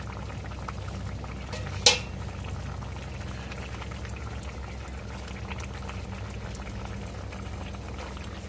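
Curry simmering in a cooking pot gives a steady low bubbling hiss, broken by one brief sharp clink partway through.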